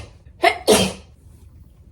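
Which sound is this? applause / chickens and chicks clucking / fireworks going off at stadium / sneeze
sneeze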